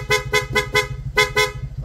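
A loud, close aftermarket horn on a Honda Click V2 scooter honks in quick bursts: four evenly spaced beeps, a pause, then two more, with a faint engine hum beneath.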